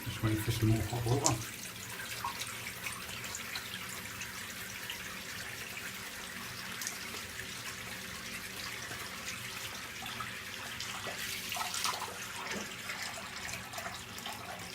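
Hot water runs steadily from a tap, a soft continuous splashing hiss, fairly faint, with a brief louder gush at the start.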